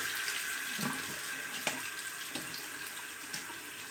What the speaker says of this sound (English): Let's get some more water on the face here.